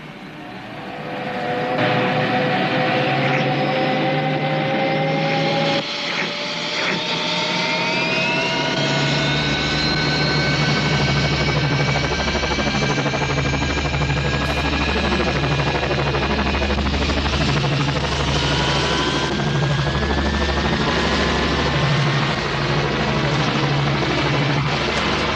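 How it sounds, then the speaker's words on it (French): A helicopter engine and rotor drone steadily and loudly throughout, with whining turbine tones that shift in pitch while the aircraft flies close by. "Murray, tu me laisses conduire ton hélicoptère?"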